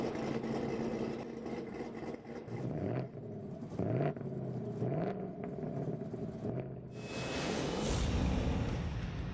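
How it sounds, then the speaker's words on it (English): A car engine in The Grand Tour Game revs repeatedly in sharp rising bursts over a rumbling idle, ending in a louder sustained roar. "let's rev up those engines"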